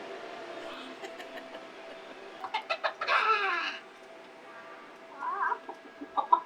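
A mechanical tic-tac-toe playing chicken at an arcade museum clucks in a few short bursts, mixed with clicking machine noise and background hum at moderate volume.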